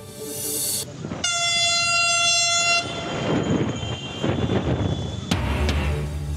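A Dhaka metro rail train on a trial run sounds a long sustained horn blast over its passing rumble, followed by steady rolling noise and another brief hoot.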